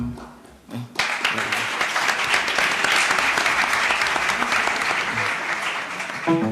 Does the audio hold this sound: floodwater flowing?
no